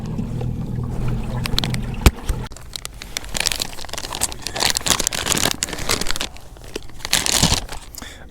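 A kayak pushes off on the water with crinkling, scraping rustles and uneven splashing strokes, close and moderately loud, after a low motor hum fades out early on.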